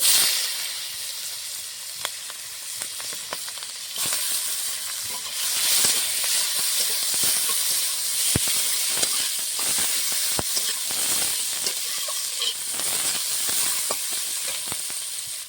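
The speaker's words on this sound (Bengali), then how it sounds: "পেঁয়াজটা হালকা করে ভেজেছি" Chopped onion sizzles in hot oil for a fish curry, a steady bright hiss with scattered crackles and pops across the whole stretch, at a moderate level and without voices.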